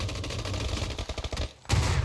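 Rapid gunfire in PUBG, a Wild West themed custom match, a loud sustained volley of shots that breaks into distinct bursts, pauses briefly, then resumes with a heavy blast.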